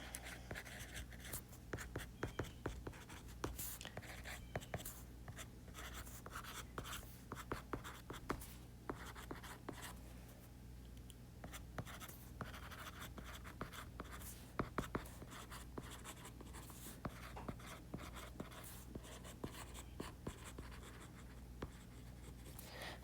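A pen scratches and taps across paper in quick, irregular strokes, quiet and close, continuing steadily with brief pauses and no voice over it.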